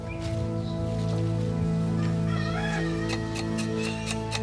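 Chickens cluck softly in short bursts over a steady humming background, fairly close but not loud.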